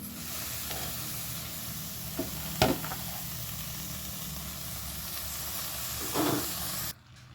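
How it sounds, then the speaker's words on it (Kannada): Steady sizzling hiss of chopped greens frying in hot tempering oil, with a few soft clinks of a spoon stirring, fairly faint and continuous until it cuts off. "ಈಗ ಒಗ್ಗರಣೆ ರೆಡಿ ಆಯಿತು ಇದಕ್ಕೆ ಕಟ್ ಮಾಡಿ ಇಟ್ಕೊಟ್ಟ ಇಟ್ಕೊಂಡ ಎಲೆನ ಹಾಕ್ಕೊಳ್ತಾ ಇದ್ದೀನಿ"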